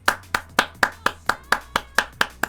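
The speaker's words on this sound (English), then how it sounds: "I give my applause to the Kraken." One person claps steadily, about ten sharp, evenly spaced claps close to the microphone, with nothing else heard.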